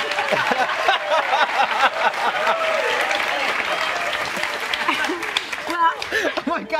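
A talk-show studio audience applauds in a sustained patter of clapping, running under continuous talking and chuckles from the hosts.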